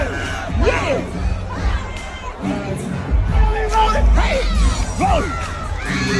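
A crowd of kids at an aerobics event cheer, whoop and shout excitedly, a loud, lively mass of overlapping voices with rising yells and a heavy low thump beneath, as though recorded amid the group.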